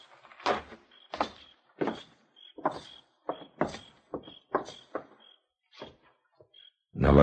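Front door being opened in a 1955 Western radio drama, heard as a series of soft wooden thuds and knocks spaced about half a second apart, near and isolated with no voices.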